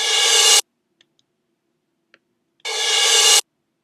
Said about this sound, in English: reverse cymbal, reverse crash cymbal,